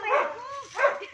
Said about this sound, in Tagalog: Ingay tuloy yung aso.